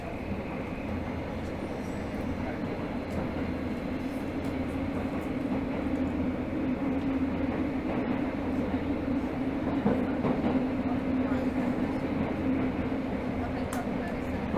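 Tokyo Metro Hibiya Line 13000 series subway train running between Naka-Meguro and Kita-Senju, heard from inside the car as a steady, close rumble of motor and wheels on rail with a continuous low hum.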